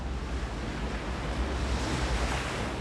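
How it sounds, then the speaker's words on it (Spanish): Ocean waves out in the middle of the Pacific make a steady, dense, loud wash of surf with wind rumble, continuous and enveloping with no distinct breaks, and no voices. "Solo el océano."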